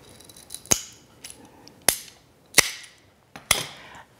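Ratchet cutters snipping through cake support dowels for a stacked fondant cake, four sharp, crisp snaps spaced about a second apart with faint handling clicks between them in a quiet room.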